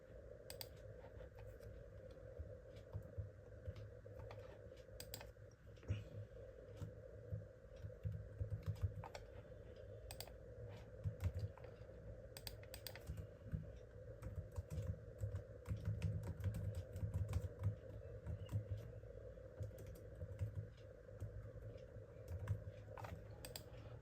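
Someone types a business name on a computer keyboard: quiet, rapid keystroke clicks in irregular bursts over a low hum, with no talk.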